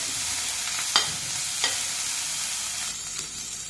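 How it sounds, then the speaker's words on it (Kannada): Cut gooseberry pieces frying in a pan, a loud continuous sizzle with a few sharp scrapes of stirring, close up and without talk. "ಇದು ಕಟ್ ಮಾಡಿ ಇಟ್ಟಿದ್ದು ನೆಲ್ಲಿಕಾಯಿ ಹಾಕ್ತೀನಿ ರೀ"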